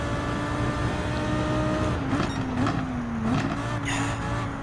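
Lamborghini Huracan GT3 race car engine in Gran Turismo 7, a steady loud drone that swells and dips with gear changes, with brief tire squeal bursts mid-way, no voices.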